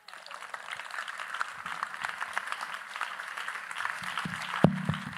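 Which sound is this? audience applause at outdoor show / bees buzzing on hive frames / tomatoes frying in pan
audience applause at outdoor show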